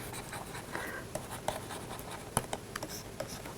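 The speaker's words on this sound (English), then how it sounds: "so let me first write it" Chalk or pen writing out a graph theory theorem statement on a board, a steady scratchy scrawl with small taps and strokes, close and fairly quiet, with no talking.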